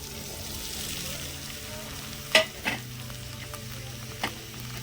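Beans sizzling quietly in a pan, a soft steady frying hiss with a few sharp clinks of a stirring utensil against the pan, close up and without voices.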